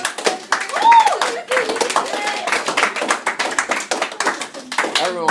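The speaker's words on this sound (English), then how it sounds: "Everyone was clapping." Students in a classroom clap together for a classmate, a scattered burst of hand claps mixed with voices talking and cheering over it throughout.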